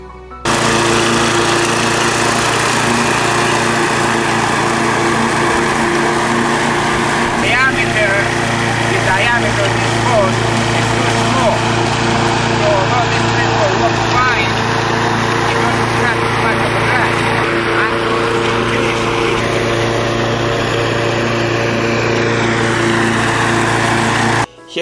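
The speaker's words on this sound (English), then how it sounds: "Here you see my configuration, a common walk-behind lawnmower." A walk-behind lawn mower engine drones steadily and loudly throughout, its pitch barely changing from start to finish.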